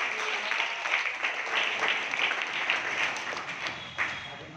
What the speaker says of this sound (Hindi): जरा ताली बजाओ आप सभी लोग।